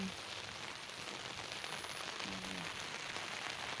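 Steady rain falls on a morning in Ubon, a dense even hiss of drops on surfaces with a faint tonal sound briefly rising underneath, no talking.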